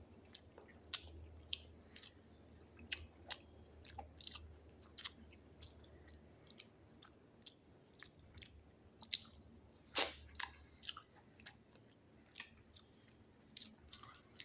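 Several people eating a family meal together, with soft close-up chewing, biting and squishy mouth noises in an irregular rhythm and no talk.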